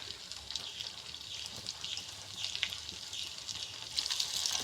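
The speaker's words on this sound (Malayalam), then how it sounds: "നമുക്ക് ചെറിയ ഉരുളകളായിട്ട് ഇതിലേക്ക് ഇട്ട് കൊടുത്ത് വറുത്ത് കോരാം" Small rice balls deep-fry in hot oil with a soft, steady hiss and light crackling. The sound is fairly faint and close, with no talking.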